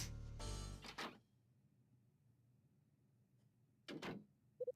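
A door in the Last Window video game opens at the press of a door button. A short mechanical whoosh is followed after a quiet gap by a second brief burst, then a few rapid electronic beeps.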